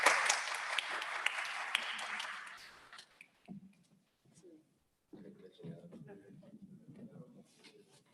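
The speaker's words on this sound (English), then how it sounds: "Let's give them another round of applause." Applause at a Rockdale County Board of Commissioners meeting, a burst of clapping for about three seconds that fades out, followed by quiet room sound and murmured voices.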